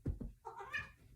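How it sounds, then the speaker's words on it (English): A pet cat meows a few times in quick succession, close and fairly quiet, with a couple of short low thumps at the start before the drawn-out cry. "My kitty cat."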